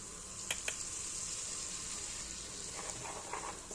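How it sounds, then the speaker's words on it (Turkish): Flour roasting in melted butter and sunflower oil in a pan for a quick soup, a faint, steady low sizzle with a couple of soft clicks near the start and light stirring scrapes toward the end. "Unu kokusu çıkana kadar kavuruyorum."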